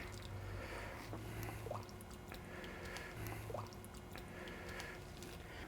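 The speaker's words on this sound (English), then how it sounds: "let me dip out some of my broth and fill my bowl with some broth" Beef curry broth from a keto stew is ladled into a bowl, with soft drips, small splashes and wet squishing sounds in a quiet kitchen, coming in short bursts of liquid pouring.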